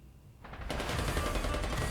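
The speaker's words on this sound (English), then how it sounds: "Red Hood rushes toward the sounds of gunfire." Video game gunfire from Nikke bursts in after a quiet start, then carries on as dense, continuous rapid shots like a machine-gun fusillade, loud and sustained to the end.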